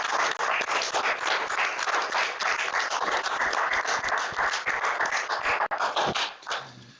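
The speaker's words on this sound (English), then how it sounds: "I think also that we should extend that vote of thanks through a round of applause for many district councillors" A round of applause at a Glastonbury town council meeting for district councillors, as a dense, steady wash of many hands clapping at fairly close range that fades away at the end.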